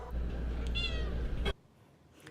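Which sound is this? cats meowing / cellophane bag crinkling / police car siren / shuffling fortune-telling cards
cats meowing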